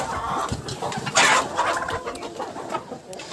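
Chickens cluck steadily in a muddy autumn farmyard, with hens nearby; the calls are continuous, fairly close and overlapping, with a louder burst partway through and no talking.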